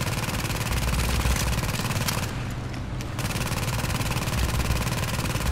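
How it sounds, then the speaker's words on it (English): An automated turret firing in The Division video game: sustained, rapid automatic gunfire rattles continuously in the game audio, with a brief drop in intensity midway and no talk. "My turret's gonna run out soon."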